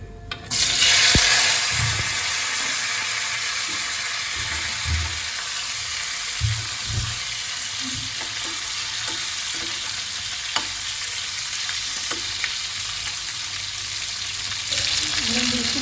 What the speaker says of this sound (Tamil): கடுகு பொரிச்சு இப்போ மாங்காய் எடுத்து கொட்டிக்கலாம்.